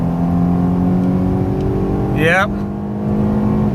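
Interior engine drone of a 2019 Acura TLX A Spec in Sport Plus mode accelerating onto a highway, a steady low hum with rising tone, a brief whine near the middle, and a short spoken word over it.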